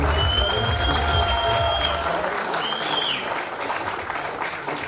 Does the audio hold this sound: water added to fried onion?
no